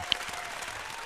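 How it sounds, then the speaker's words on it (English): Steady audience applause following a guest's performance on a morning talk show, a continuous wash of clapping at moderate level with one sharp clap near the start. "Give that man a round of applause,"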